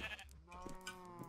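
Sheep bleat in a modded Minecraft survival world, with a couple of wavering in-game bleats close by and at moderate volume, and no talking over them.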